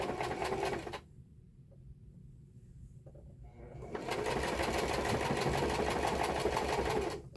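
A sewing machine back stitching an L shape on fabric runs loud and close with a steady rapid hum, stops for a few seconds of near quiet with small clicks, then runs again.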